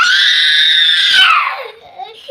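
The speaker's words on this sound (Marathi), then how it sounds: "कशाला ओरडतोय कशाला ओरडतोय" A young boy at home screams loudly in one long, sustained shout that wavers and then trails off into a brief whimper.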